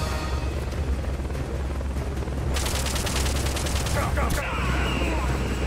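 Gunfire and a grenade blast in the Metal Gear Solid Peace Walker video game, dense rapid shooting kicking in midway and continuing loud over a steady rumbling background, with a burst near the end.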